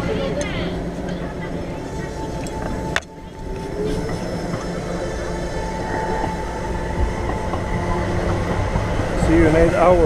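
A passing train rumbles and clatters steadily nearby, with a sharp bang early on and a rising squeal of wheels toward the end.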